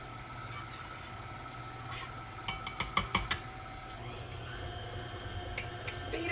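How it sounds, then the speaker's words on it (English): An electric mixer whirs steadily while stirring a no-bake banana split dessert mixture in a bowl, with a quick run of sharp clinks and rattles from the beaters in the middle and lighter taps near the end. "Speed up my mixer a little bit"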